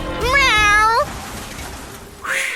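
A cat meows loudly and close up, a single drawn-out call with a rising and falling pitch, followed by a second brighter meow near the end over a steady noisy background.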